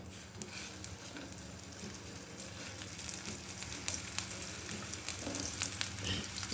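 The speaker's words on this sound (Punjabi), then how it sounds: "ਸਾਡਾ ਜਿਹੜਾ ਆਇਲ ਹੈ ਨਾ ਗਰਮ ਹੋ ਰਿਹਾ ਤੇ ਅਸੀਂ ਹੁਣ ਇਹਦੇ ਵਿੱਚ ਰੱਖਾਂਗੇ ਆਪਣੀ ਜਿਹੜੀ ਕੱਟੀ ਹੋਈ ਸਬਜ਼ੀ ਹੈ ਬੈਂਗਨ ਤੇ ਟਮਾਟਰ" Sliced eggplant and tomato sizzle softly in hot oil in a pan, a faint, steady crackle with occasional small pops and no voices.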